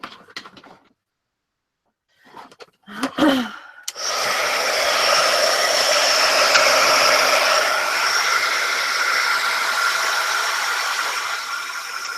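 A hair dryer blows steadily on a freshly painted watercolor for about eight seconds, starting abruptly after a few faint handling sounds and holding a loud, continuous broadband whoosh.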